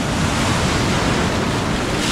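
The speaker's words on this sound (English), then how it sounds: "Alright guys, you got some big waves here." Big ocean waves break in a steady, loud roar of surf at Copacabana beach, with continuous wash and wind rumble filling the whole stretch and no voices.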